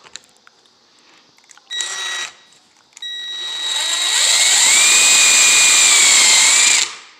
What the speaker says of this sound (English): we're going to drill us a couple of holes.